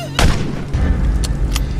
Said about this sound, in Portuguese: um dos soldados deu um tiro certeiro bem na nuca dela